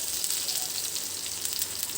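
Potatoes fry in a pan with beetroot, giving a steady, even sizzle and crackle throughout at moderate volume, with no voices.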